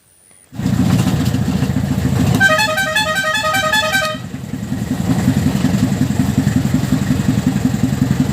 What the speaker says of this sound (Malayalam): ഇത് 1982 മോഡൽ ഒരു സ്ലോ സ്പീഡ് എഞ്ചിനുള്ള ഒരു 2 വീൽ ഡ്രൈവ് ജീപ്പാണ്.